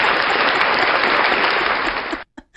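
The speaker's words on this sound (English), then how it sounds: "Let's give him another round of applause." Studio audience applause on a call-in talk show: a dense, steady roar of clapping that holds for about two seconds, then cuts off abruptly into near silence.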